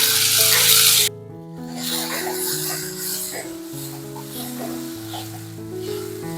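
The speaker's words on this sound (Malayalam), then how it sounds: "തക്കാളി ചേർത്തിട്ട് നന്നായിട്ടൊന്ന് വഴറ്റി കൊടുക്കുക" Tomato added to ginger, garlic and onion in a hot pan for a Kerala green peas curry gives a loud hiss of sizzling for about a second, then fades under soft background music.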